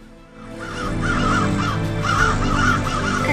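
Crows caw repeatedly in the Iron Wings video game, a farm mission, with several harsh calls in quick succession standing out loud and close over a steady background of game sound.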